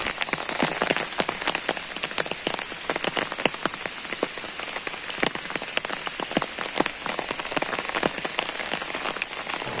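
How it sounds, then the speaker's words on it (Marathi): Heavy rain pours outside, a dense, continuous patter of drops hitting surfaces close by at an even, loud level with no voices. "तर बाहेर बघा भरपूर पाऊस आहे, पूर्ण पावसाचं वातावरण, पाऊस येतोय।"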